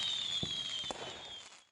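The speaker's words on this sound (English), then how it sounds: "or loud like a firework." A firework goes off, with a steady high whistle running underneath two sharp bursts early on. It sounds loud and close, with no voices, and cuts out abruptly at the end.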